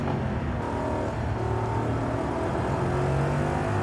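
Aston Martin DBX engine in the Forza Horizon 5 racing game, a continuous loud engine drone with shifting revs throughout, heard alone without talk.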